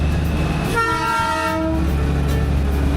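Darjeeling toy train passing near Ghoom Monastery sounds a loud, sustained horn blast lasting about a second, over a steady rumble of the moving train.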